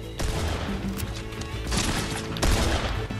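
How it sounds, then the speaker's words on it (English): Bursts of video game gunfire crackle over a dense, busy game soundtrack, with sharper shots standing out near the start, middle and end of the stretch. "Why are you shooting me?"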